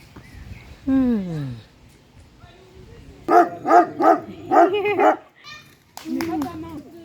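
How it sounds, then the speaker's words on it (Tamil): At an educational farm in Ouézy, a nearby dog lets out a quick run of loud, rhythmic barks after an earlier whining yelp, with people talking around it. "நாய் வேறு இருக்குது இங்கே."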